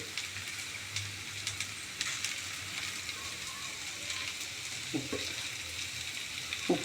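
Okra sautéing in a pan with turmeric and salt gives a low, steady sizzle with a few soft stirring scrapes near the end, fairly quiet and close.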